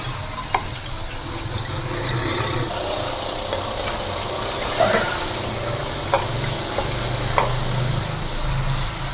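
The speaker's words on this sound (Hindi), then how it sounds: "गोश्त को हम भून लेते हैं।" A kilo of beef sears in a karahi with a continuous low frying sizzle over a steady hum, broken by occasional sharp clicks of a spoon against the pan.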